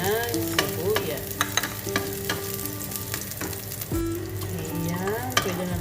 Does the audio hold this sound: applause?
no